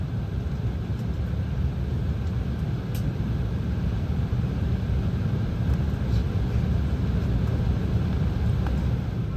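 Inside the cabin of a Breeze Airways Embraer E195 jet during pushback and taxi, a steady, loud low engine drone and rumble runs throughout with a few faint clicks and no talking.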